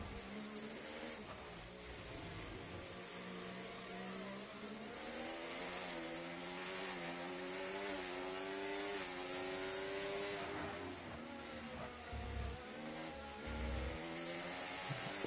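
Race cars rev and accelerate on track in a sim racing league event set in Canada, engine notes rising and falling steadily, close and continuous with no talk over them.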